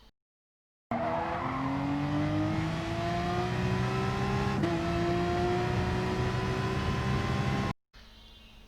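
A race car in a racing video game accelerating hard out of a corner at Catalunya, its engine climbing steadily in pitch through the gears with continuous tire noise, loud and alone after a brief silence at the start.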